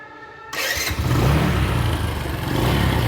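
An old, formerly rusty restored motorcycle with a replaced silencer and newly fitted self-start starts up abruptly, then runs at a loud, steady idle close by.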